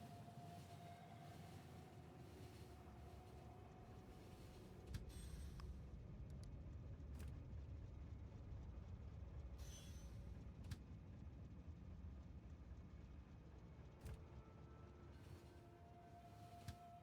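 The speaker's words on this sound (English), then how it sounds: "Alright, my train's arrived." A train pulling in inside the video game Factorio, a steady low rumble and mechanical hum with faint clicks and thuds, fairly quiet and continuous with no talking.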